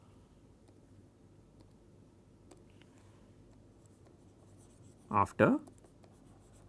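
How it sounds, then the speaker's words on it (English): Hand-writing, likely chalk or marker on a board, during a lecture on the binomial distribution: a faint, steady scratch runs under low room noise, with a short spoken word near the end. "I am going to just write down"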